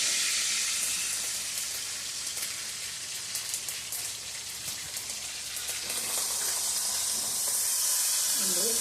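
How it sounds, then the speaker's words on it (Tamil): Curry leaves crackle and sizzle as they temper in hot oil, a steady, dense hiss that holds close and fairly loud for the whole stretch with no talk. "கொஞ்சம் கருவேப்பிலை சேர்த்துக்கலாம். இதெல்லாம் ஒன்றா தாளித்து வைக்கலாம்."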